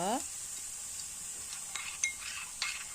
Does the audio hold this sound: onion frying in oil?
yes